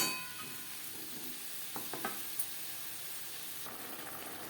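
Vegetables for shukto sizzle in a pan as they are stirred. A faint, continuous frying hiss carries a few soft scraping taps from the stirring, with no voices.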